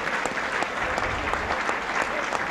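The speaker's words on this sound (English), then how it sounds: "Getting a good round of applause from the Hull contingent." Hull FC rugby league supporters applaud at a match against Warrington, a steady wash of clapping from a distant stadium crowd with a faint murmur underneath.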